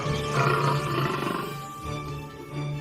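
A lion's deep, rumbling roar rises and swells, then fades into a lower growl. It is heard alone and at a moderate distance.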